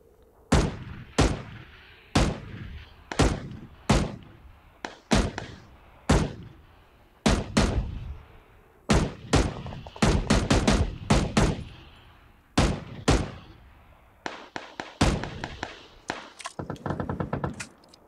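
Suppressing fire in PUBG on the Vikendi map, played on PS4: a long run of loud, sharp single and double shots at a steady pace, then quicker clustered bursts near the end, heard alone with no talk.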